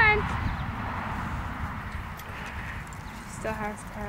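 A pony's hooves clip-clop in a quick trotting rhythm as it approaches people outdoors, fairly close, while voices talk over it and birds chirp faintly.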